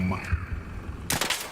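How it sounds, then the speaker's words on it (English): Explosions and gunfire from the video game Arc Raiders come in as a low rumble, followed by a sudden sharp burst of crackling shots near the end, with a voice talking over them. "Look at all those explosions."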